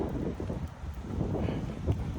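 Steady cold outdoor wind buffeting the microphone, a continuous low rumble with gusty swells and no talking.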